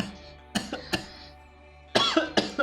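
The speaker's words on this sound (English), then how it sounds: "Coughing, mate." A few short, dry coughs close by, in two clusters separated by a brief pause, with no talking.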